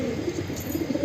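Soft, throaty cooing from a black wild pigeon, nearby and fairly quiet, in short uneven pulses without any talking.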